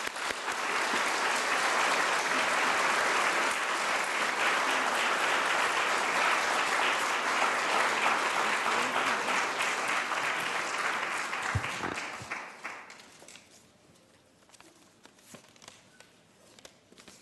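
Sustained, loud applause from an audience at a grand opening welcomes two speakers to the podium, holding steady for about twelve seconds before it tapers off into scattered claps and room noise.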